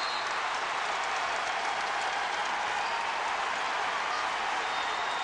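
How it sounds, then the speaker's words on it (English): A big round of applause from an arena crowd at a college basketball game between Kentucky and Central Michigan, a dense, steady wash of clapping and cheering throughout, with faint voices beneath. "You can see the home state kid getting a big round of applause"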